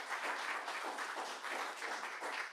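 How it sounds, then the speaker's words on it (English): An audience at a community crime prevention meeting applauds, a steady wash of clapping with slight swells, moderately quiet and without talk over it. "please give them a round of applause"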